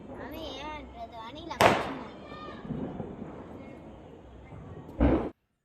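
Firecrackers bursting during Diwali celebrations, with two sharp, loud bangs, one early and one near the end, standing out over people talking throughout.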